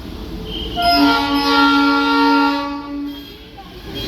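A toy train engine's horn blares in a long, steady harmonic tone for about two seconds, loud and close, with faint chatter around it, in North Bengal.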